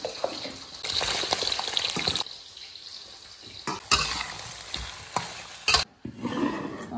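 Dried tofu frying in oil in a wok, stirred with bursts of sizzling and scraping that rise and fall across the stretch, with a brief cut near the end.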